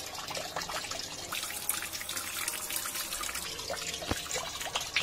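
A washing machine draws in water at its medium level setting, a steady trickling and splashing flow with scattered drips and small knocks, fairly soft and continuous throughout.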